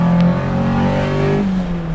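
A B16 VTEC-swapped Honda Civic roars as it accelerates, a loud close engine whine rising in pitch, with a brief shift-like dip near the end.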